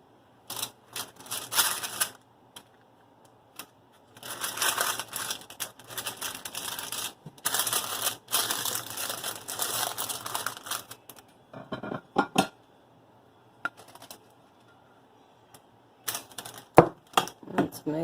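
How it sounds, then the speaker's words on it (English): Crinkly rustling and tearing of aluminum foil being pulled off baked Southern meat and potato pies, coming in loud bursts with short pauses, close by, with a voice talking at times. "So, I'm going to remove our aluminum foil."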